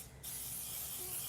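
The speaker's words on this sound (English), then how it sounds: "I'm going to immediately spray it with coconut oil." Coconut oil cooking spray hisses steadily onto a baking pan for a Bundt cake, one continuous close, loud burst starting after a brief quiet moment with no talk.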